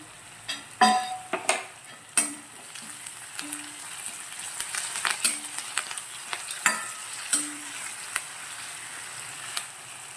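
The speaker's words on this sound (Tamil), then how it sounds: "வெங்காயம் நல்லா வதங்கட்டும்." Onions with curry leaves and salt sautéing in a pan for veg kurma, stirred with a steady sizzle and scattered scraping clicks of a spoon against the pan, fairly close and alone without talk.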